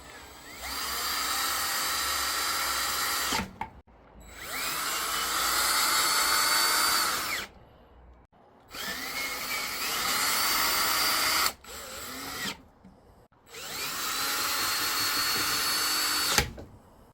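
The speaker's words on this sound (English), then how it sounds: "a drill will get this done so much quicker" A power drill with a hex bit drives screws into a chair base during furniture assembly, running in four long, loud whirring bursts of about three seconds each, separated by short pauses, with no talking.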